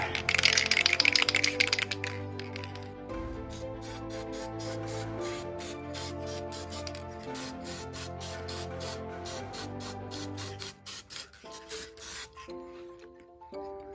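A loud two-second hiss of battery protection and sealer sprayed onto a car battery terminal, followed by steady background music with no further spraying.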